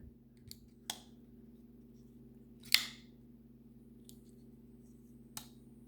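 An Artisan Cutlery Arion folding knife drops closed with a sharp metallic snap, one clear click among a few fainter ticks over a quiet steady background hum.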